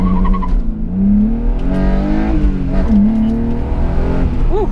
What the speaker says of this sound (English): What do you say we try ourselves a little one-handed launch here?